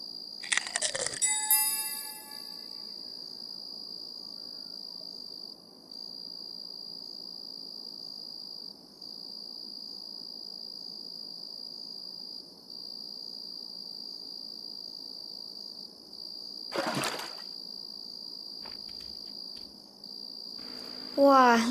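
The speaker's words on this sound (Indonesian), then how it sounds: "Di STW sekarang sudah malam dan suaranya sangat sepi dan hanya ada suara jangkrik di sini." Crickets chirp at night in the STW video game: a thin, continuous high-pitched trill, quiet and steady, with brief bell-like chimes at the start and again near the end.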